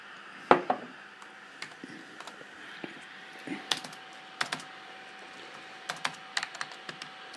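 Typing on an Acer TravelMate 522TX laptop keyboard, with sparse, irregular key clicks and a few harder taps over a quiet room hum; no talking.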